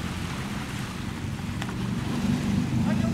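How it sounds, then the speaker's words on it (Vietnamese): Strong water rushing and churning around a drifting wooden boat where salty seawater pours like a waterfall into a small river, a steady loud wash with wind noise buffeting the microphone throughout. "Nước đổ rất là dữ nha các bạn."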